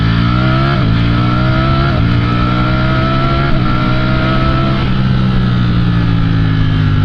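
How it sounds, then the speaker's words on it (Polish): A loud sport motorcycle engine revving steadily, its pitch climbing and shifting through gears, running continuously close by with no talking. "No ale tu dźwięk tego motocykla"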